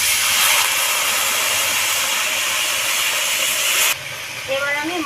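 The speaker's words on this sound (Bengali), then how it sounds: "অল্প পরিমাণে জল দিয়ে দিই, নাহলে কি টমেটোগুলো পুড়ে যাবে" Water poured into a hot pan of frying tomatoes and spices for a fish curry with mustard and poppy seed, giving a loud, steady steamy hiss that drops abruptly near the end to a quieter sizzle.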